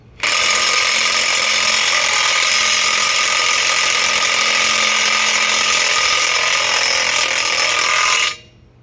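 A continuous, loud, high-pitched whirring grind runs for about eight seconds as something is tightened on farm equipment, starting and stopping abruptly.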